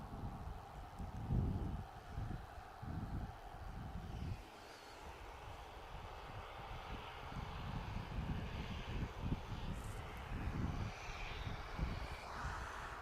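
A jet airliner climbs away after takeoff from Manchester Airport, a broad distant engine roar that holds steady and slowly fades over about thirteen seconds, with light wind noise and no talking.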